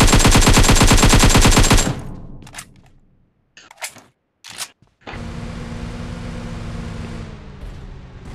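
Dense burst of automatic gunfire in the mobile battle royale game PUBG Mobile, loud and rapid for about two seconds, then a few isolated sharp shots before a steady wash of game noise returns.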